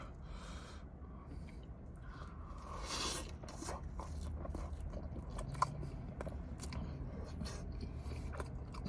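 Faint, close chewing and biting of buffalo fries dipped in ranch, soft crunches and mouth noises repeating over a quiet room hum, with no talking.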